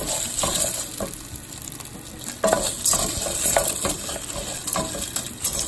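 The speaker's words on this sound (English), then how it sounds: "I'm going to brown the pasta, the Coditos. And the oil." Coditos pasta browning in oil in a pot for caldo de pollo: continuous close frying sizzle with repeated stirring scrapes and light rattling of the small pasta pieces against the metal, no speech.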